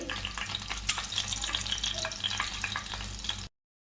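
Dried red chillies frying in hot oil with cumin seeds, a steady crackling sizzle with stirring scrapes, fairly quiet and close, ending abruptly.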